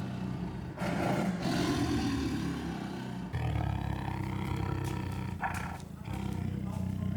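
A zoo tiger growls and roars up close in long, rumbling bursts, deep and loud, with a brief break between them.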